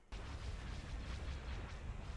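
A massive explosion in the Star Wars Empire at War video game, a sudden deep rumbling blast that starts abruptly after a moment of quiet and keeps roaring steadily, with no talk over it.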